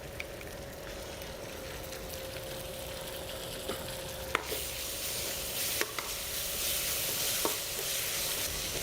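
Ginger garlic paste sizzles steadily in a pan of onions for prawn masala, with occasional sharp spoon scrapes and clicks as it is stirred, close and continuous.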